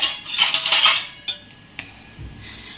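A metal milk vessel and its fitted metal lid clink and rattle in a dense burst of bright metallic hits, followed by a few separate sharper clinks and a soft thud, close up with no talking.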